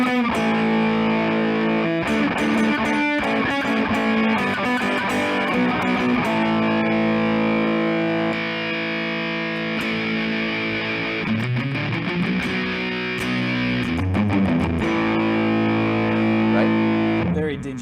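Wren and Cuff fuzz pedal with the tone control bypassed, giving a dense, rough, saturated electric guitar drive; loud continuous chords and riffs ringing throughout with no talking.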